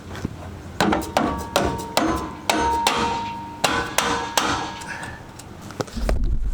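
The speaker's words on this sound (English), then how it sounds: "what I like to use is a dead blow hammer to kind of put that in place" A heavy dead blow hammer strikes repeatedly, seating a shackle relocation bracket on a 1998 Jeep Cherokee: about a dozen firm, dull knocks at an uneven pace, close and loud, with a faint ringing after some blows.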